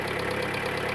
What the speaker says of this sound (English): Now you can hear some noise from the hydraulic tappets